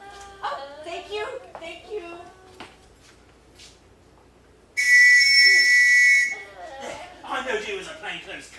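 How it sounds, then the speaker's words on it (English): A shrill sporting whistle blasts once for about a second and a half on a London street, loud and close, between stretches of people talking. "That ain't a police whistle, that's a sporting whistle."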